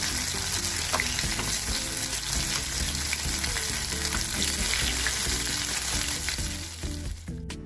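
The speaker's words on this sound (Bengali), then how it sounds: "ফ্রোজেন পেঁয়াজুগুলো আমি কয়েকটা আপনাদের ভেজে দেখাচ্ছি" Frozen lentil onion fritters (masoor dal peyaju) frying in hot oil, a loud, dense, continuous sizzle and bubble with occasional stirring clinks, ending in a brief clatter.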